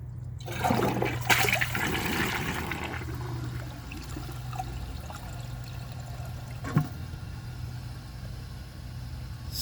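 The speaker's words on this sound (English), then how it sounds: "I am going to try holding the handle and flushing it." A Toto Drake toilet flushes while its handle is held down: a loud rush of water surges at the start, then settles into a steady, continuous roar and gurgle of draining and refilling, with one brief clunk partway through.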